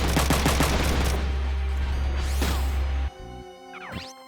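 Rapid gunfire from mechs in the tactical game Front Mission 3 rattles in a loud, fast series of close shots over a low hum, then cuts off abruptly, followed by a quieter whooshing effect.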